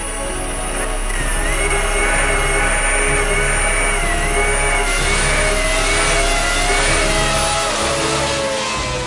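A fast RC car's electric drivetrain and tires spin up to high speed, giving a loud, continuous whining rev with rising and wavering pitch throughout, carrying no speech.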